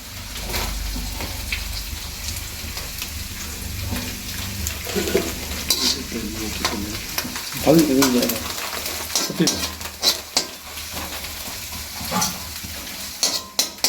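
Grated coconut sizzles and crackles in a hot pan with garlic and ginger, a steady loud frying hiss broken by stirring scrapes and sharp spatters.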